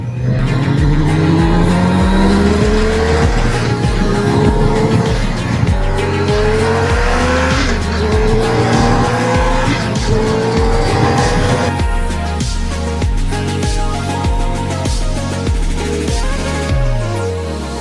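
A 2018 BMW K1600GT Sport six-cylinder motorcycle in dynamic mode accelerates hard through rising gear pulls, then downshifts with a series of sharp blips, the engine loud and close throughout.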